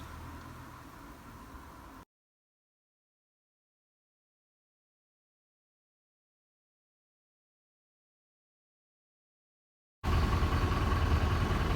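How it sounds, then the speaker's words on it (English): A vehicle engine idles to charge batteries, a steady low drone heard in two short stretches separated by a long silent gap, noticeably louder when it returns at the end. "I'm just running the engine for a bit of juice into the batteries"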